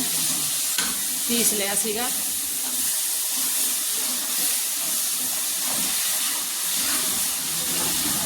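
Tomatoes fry and sizzle in a pan for aloo pakoda curry, a loud, steady hiss throughout while a person talks over it briefly.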